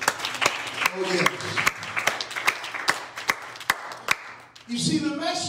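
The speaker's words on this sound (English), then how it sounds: "Will you clap your hands up to the Lord?" A church congregation claps together in a steady, rhythmic beat of crisp, separate claps. Voices rise up at the end as the clapping gives way.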